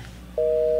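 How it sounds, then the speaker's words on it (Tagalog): Telephone busy signal from an unanswered cellphone call: a steady, loud two-tone beep that starts after a brief low hum and keeps sounding to the end, with no talk. "Saan mo na makontak ti cellphone ni Jessa?"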